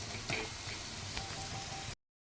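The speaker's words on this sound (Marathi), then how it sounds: "हा जो कांदा स्लाइसमध्ये कापला होता हा टाकूया, हा आता व्यवस्थित भाजून घेऊया" Sliced onion frying in oil for a spicy chicken rassa, a steady close sizzle with a crackling hiss that carries evenly for about two seconds and then cuts off.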